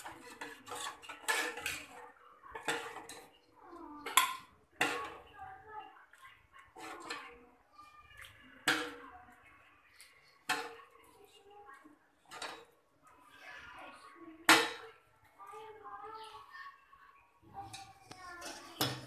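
Steel dishes, pots and serving spoons clink and scrape while bottle gourd sambar is served in a home kitchen, with scattered sharp clatters and a voice talking quietly between them.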